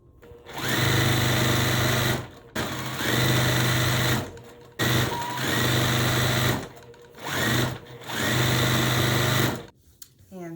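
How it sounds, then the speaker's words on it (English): A sewing machine stitches a Carpenter Star barn-star quilt block in four or five loud, close bursts of rapid whirring, separated by short pauses. "So I'm sewing this"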